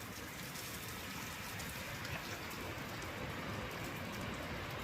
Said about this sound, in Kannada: ಫುಲ್ ಅಂದರೆ ಫುಲ್ ಜೋರು ಮಳೆ ಬರ್ತಾ ಇದೆ